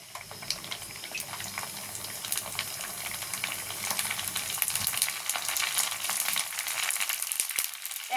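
Fuchka puris frying in hot oil on a stove, a steady bright sizzle with crackling bubbles that holds throughout, growing slightly busier in the second half, with no talking.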